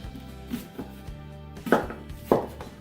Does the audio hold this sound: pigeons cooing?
no